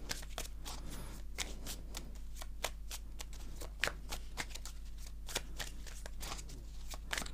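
Tarot cards being shuffled for a card reading, a steady run of crisp riffling and flicking card sounds, close and fairly quiet over a low constant hum, with no talking.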